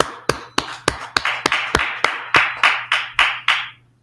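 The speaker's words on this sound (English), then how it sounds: "Let's clap it up for the Brotherhood and the Sisterhood." About a dozen sharp, evenly spaced claps ring out in a class, loud and close, each followed by a short reverberant decay before the next, with a low steady hum beneath.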